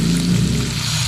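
Broth hits a hot pan of chicken adobo, giving a loud, dense sizzle and crackle that stays steady through the short moment, with no voices.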